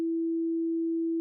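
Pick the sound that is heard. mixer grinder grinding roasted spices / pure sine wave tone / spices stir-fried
pure sine wave tone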